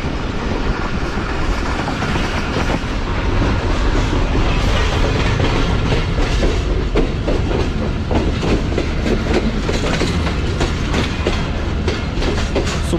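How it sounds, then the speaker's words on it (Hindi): A Pakistani passenger train runs on rails between Rawalpindi and Jhelum, its continuous loud rumble and clickety-clack of wheels steady throughout, with no talking. "सुबह के 8:02 हुए हैं और ट्रेन हमारी अप्रोच बना रही है झेलम रेलवे स्टेशन पे।"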